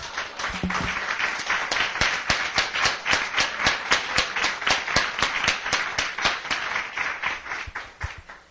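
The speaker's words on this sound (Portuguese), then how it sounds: "Vamos dar uma pausinha na leitura para dar uma salva de palmas para o nosso Deus?" A church congregation claps for God in unison in a steady, rhythmic beat, sharp regular strikes repeating across the whole stretch, close and fairly loud, with a brief voice near the start.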